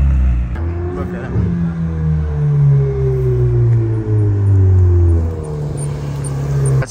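A McLaren 600LT engine rumbles nearby with a rising and falling whistle over it as the revs change, while people talk in the background.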